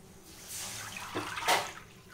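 A cup of water is poured into a pan in two brief splashy gushes, close and fairly soft.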